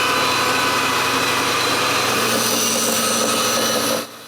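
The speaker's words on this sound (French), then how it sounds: "Ensuite, je les coupe à scie à ruban" A band saw cuts through walnut pieces for a clock frame, a steady loud whine and roar held without a break until it stops just before the end, with no talking.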